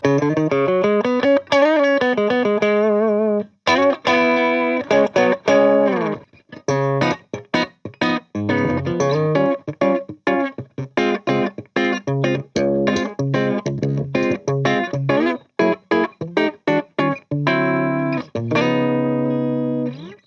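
An EVH SA126 electric guitar with bridge and neck pickups combined plays a clean, spanky, clicky riff of single notes and short chords through effects, loud and close with no talk.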